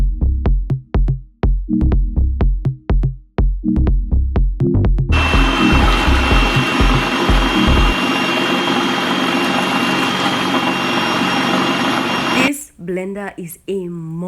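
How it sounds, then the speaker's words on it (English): A few seconds of pulsing taps, then a loud, steady high-pitched kitchen blender whir runs for several seconds before stopping, followed by brief talking, in Yaoundé, Cameroon. "Blender is a monster"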